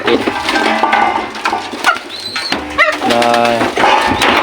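A loft of young racing pigeons coos and flutters close by, a dense layer of overlapping soft calls and rustling, with someone briefly talking over the flock.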